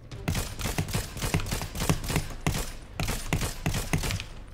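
An Excalibur rifle fires in rapid repeated bursts in Fortnite, dense sharp cracks coming in quick rhythmic volleys that fill the whole stretch, loud and close.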